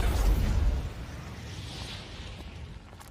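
Fire spell named Inferno bursting into flame on a pile of trash, a loud deep whooshing roar at the start that settles into a steady crackling rush of burning.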